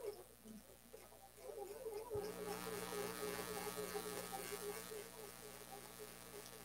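A sewing machine stitches continuously in a steady buzzing whir, running on without tying off, fairly faint and close.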